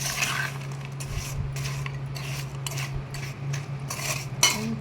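Spoon stirring lemon juice into chicken pickle in a vessel, a series of soft rhythmic scraping and mixing strokes with light metallic contact, close and fairly quiet under a low steady hum.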